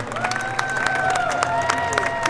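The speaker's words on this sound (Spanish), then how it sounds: "¡Vamos, esos aplausos!" Crowd clapping and cheering at a racing competition, a steady burst of applause with scattered claps and shouts, a few voices and a whistle-like tone riding over the noise.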